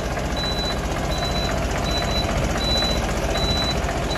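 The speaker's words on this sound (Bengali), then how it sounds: "চলো ইঞ্জিন সাউন্ডটা আগে দেখো" A new truck running at its delivery in Medinipur, a steady loud engine drone filling the background while a high electronic beep repeats about six times at regular intervals on top.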